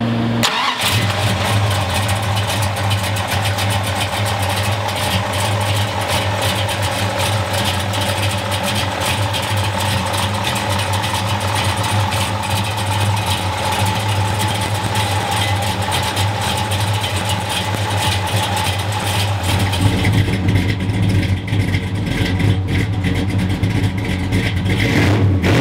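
A 1969 Plymouth Road Runner with a 440 V8 and manual steering starts up loudly and settles into a deep, steady rumbling idle close by, then revs near the end.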